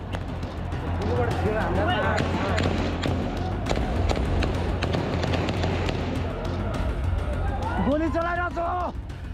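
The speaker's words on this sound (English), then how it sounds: "we can clearly see gunshots" Gunshots ring out during a Gen Z protest in Nepal, sharp repeated cracks at irregular intervals over a dense crowd roar with shouting, and loud voices rise near the end.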